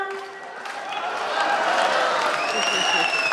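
Applause from the audience at a Holi festival comic poetry gathering in Mewar, a broad wash of many hands clapping that swells and holds steady, with some tonal background and voices faintly underneath.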